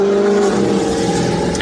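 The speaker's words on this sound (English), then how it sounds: "hi, Mr. Motorcycle" A motorcycle goes by somewhere near an indoor conversation, its engine drone rising and fading as a voice talks over it.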